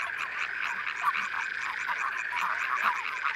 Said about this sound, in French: Grenouilles, rainettes ou crapauds, chacun possède son répertoire et son instrument.